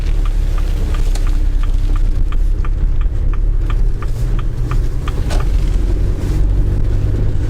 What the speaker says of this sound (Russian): Ветер немного шугает тут сетку люка, которую я не закрыл.